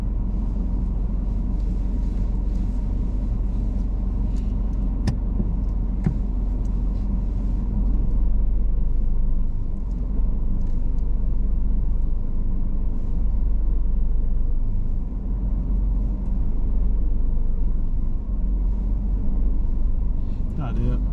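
A car reverses slowly back two car lengths along a curb during a driving test in Swindon, a low steady engine rumble heard from inside the cabin, with speech over it.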